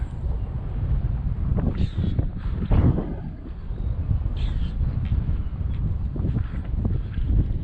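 Steady wind buffeting and roaring across the microphone during an XTM XT2e 6S RC car speed run, with rough low rumble throughout and a few brief higher noises mixed in.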